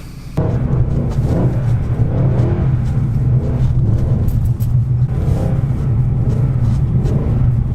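A car driven on snowy roads with traction control switched off and manual mode engaged gives a steady, close engine hum and low rumble inside the cabin, with tyres rolling continuously and the engine note rising slightly.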